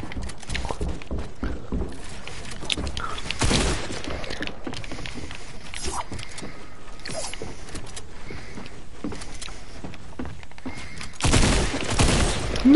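Bursts of video game gunfire from a shooter match crack out in short volleys, with a heavy loud burst near the start and another near the end over constant background game noise.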